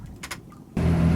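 A sailboat's engine starting up on a calm morning, a few faint clicks and knocks followed by the motor catching into a steady, loud low rumble that continues to the end.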